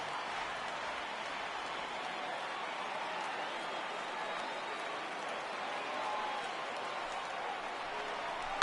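A 52,000-plus crowd on its feet at Yankee Stadium in the baseball game MLB The Show 18, a steady, far roar of cheering and clapping that never lets up, with no break or change.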